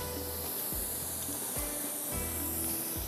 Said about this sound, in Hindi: इसको इसी तरह से यहाँ पर फ्राई करते जाएंगे